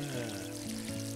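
Water pours from a watering can onto plants in the Garden Simulator video game, a brief steady splashing stream over a sustained tonal background hum.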